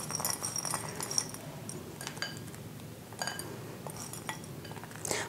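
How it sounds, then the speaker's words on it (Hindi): A spoon clinks and scrapes against a bowl while crushed Oreo biscuits and chopped walnuts are stirred together, close, with steady irregular clatter and no talking. "अच्छा, ये अखरोट और बिस्किट मिक्स कर लें।"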